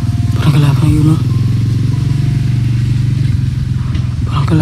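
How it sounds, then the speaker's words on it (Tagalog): Motorcycle engine passing nearby, a loud close rumble with revving bursts near the start, under people talking. "Parang may motor. Motor nga."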